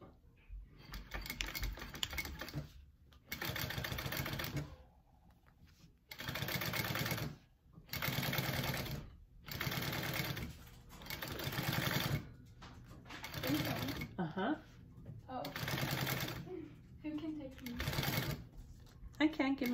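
Sewing machine stitching handbag fabric in repeated runs of steady, fast mechanical clatter separated by short pauses, close and fairly quiet.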